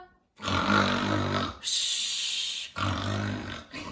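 Voices imitate loud snoring, with a couple of long rasping snore sounds separated by brief pauses, some with a breathy hiss.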